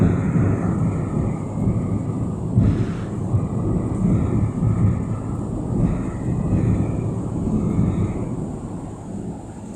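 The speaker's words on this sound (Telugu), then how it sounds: "వర్షం పడుతుంది బయట" Rain falls outside with a dense, steady roar and low rumbling like distant thunder, loud and continuous with no one speaking.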